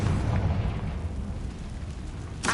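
A Confringo blasting spell bursts in Hogwarts Legacy with a deep, rumbling boom that fades into a lingering low roar, ending with a sharp crack.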